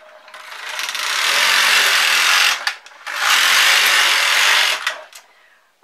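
Carriage of a knitting machine sweeping across a row of a charity hat, two long steady whirring, rattling passes separated by a brief pause, loud and close with no talk.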